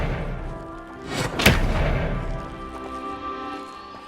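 An Expelliarmus spell impact in Hogwarts Legacy, a single sharp whooshing crack near the middle over a low game ambience and music bed.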